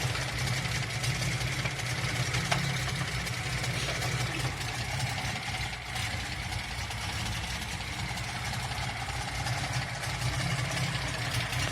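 A Datsun engine idles steadily after starting, with its chokes unhooked. The loud, even mechanical rumble runs unbroken and close by, with no talking.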